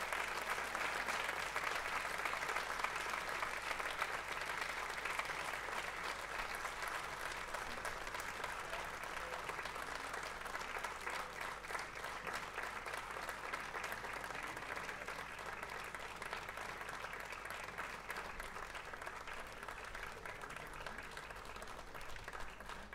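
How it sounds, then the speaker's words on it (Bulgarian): A concert audience gives a choir and its accompanists sustained applause, a dense, even clapping that holds steady throughout without a pause. "Нека ги изпратим с аплодисменти"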